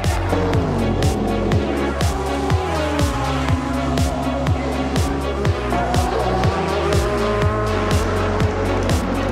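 Audi and Toyota race cars at the Le Mans 24 Hours: engines howl and shift gears repeatedly in a steady loud stream, with tire squeal and occasional passing cars.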